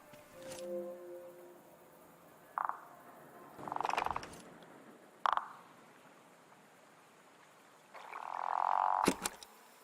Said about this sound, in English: That you making noise, Frog?